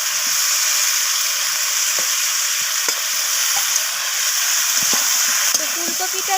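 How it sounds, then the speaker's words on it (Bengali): Previously fried cauliflower goes into a sizzling pan of vegetables, making a bright, steady frying hiss broken by scattered clinks and scrapes of stirring. "এরপর আমি এখানে দিয়ে দিচ্ছি ভেজে রাখা ফুলকপিগুলোকে"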